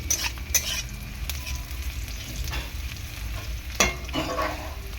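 Onions fry lightly in a pan for an amudi fish dish with raw tomato, a continuous soft sizzle broken by occasional utensil scrapes and taps, close up with no voices.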